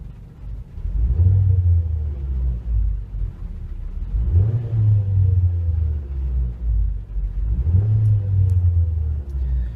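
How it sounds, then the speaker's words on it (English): A 2010 Ford Transit Connect camper van engine idles with a low rumble, then revs up three times in even bursts, each swell rising and settling back. "Let's rev the engine up,"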